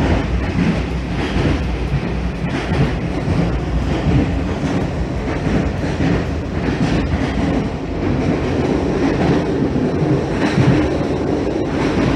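Steady interior rumble of a passenger train travelling in Portugal, with dense rolling noise and faint clickety-clack from the rails running continuously and fairly loud throughout.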